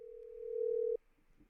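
A steady telephone tone hums in one long note for about a second during a call back, then stops abruptly and leaves faint room noise.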